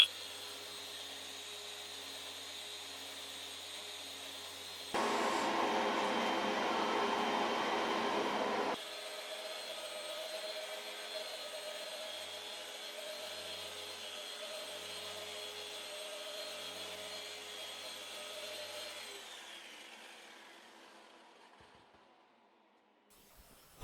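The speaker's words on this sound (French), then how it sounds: "C'est maintenant l'heure du ponçage." A steady electric sander whirs continuously on an acrylic stone countertop, with a louder, coarser grinding stretch early on before settling back and winding down to silence.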